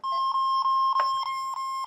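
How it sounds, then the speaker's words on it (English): A shrill electronic tone from a Radica Cube World handheld toy beeps in a steady, rapid pulsing pattern, loud and close, with no other sounds. "has the annoying beeping to show that the sound is working"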